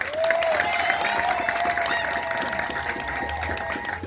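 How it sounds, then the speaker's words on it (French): A crowd at a referendum campaign rally in Oyem, Gabon, claps and cheers at length, a sustained wash of applause with a few shouts and a whistle rising over it, fairly close. "que je vous demande d'applaudir d'ailleurs"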